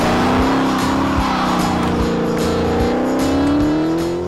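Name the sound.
Dodge Challenger Hellcat Redeye accelerating, wheels spinning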